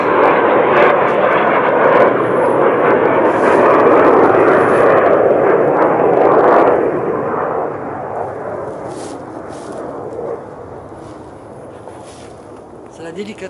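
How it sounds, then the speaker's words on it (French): An airplane passes overhead near a home, its loud broad engine roar holding steady and then slowly fading away into the distance. "Il y a des avions qui passent régulièrement là où j'habite et qui font un vacarme."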